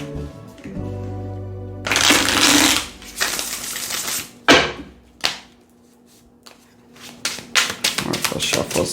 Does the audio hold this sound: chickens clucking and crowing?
no